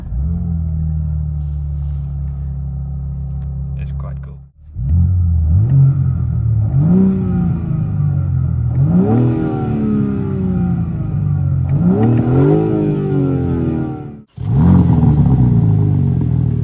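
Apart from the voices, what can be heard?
BMW G82 M4 Competition engine starting and revving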